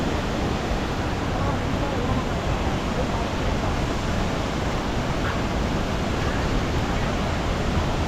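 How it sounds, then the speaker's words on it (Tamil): Monsoon waterfall at Courtallam pours with rushing water, a dense, loud, unbroken roar holding steady from start to end. "பாருங்க எந்த அளவுக்கு தண்ணி வருதுன்னு."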